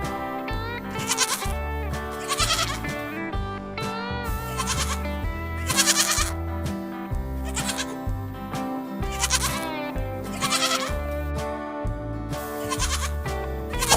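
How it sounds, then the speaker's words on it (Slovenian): A goat bleats amid continuous, loud background music, its wavering calls blending into the dense musical bed rather than standing out alone. "Koza."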